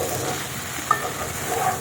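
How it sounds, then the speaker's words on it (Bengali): Okra and potato pieces fry gently in a pan on a low flame, giving a soft, steady sizzle with a faint stirring scrape partway through. "ঢাকা চাপিয়ে চাপিয়ে আমি একদম লো ফ্লেমেই কিন্তু ভাজাভুজি করছি"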